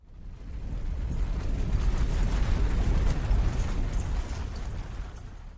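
An abandoned house collapses as a deep, rumbling crash that swells and rolls on for several seconds before slowly fading, heard alone with no voices.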